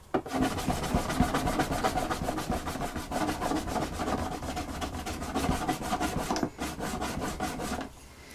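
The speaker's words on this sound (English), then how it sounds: "So while the dye is still on there, wet, I'm giving a quick burnish." Burnishing the wet dyed edge of a leather bag, a close, rapid, continuous rubbing with fast regular back-and-forth strokes, slightly slowing near the end.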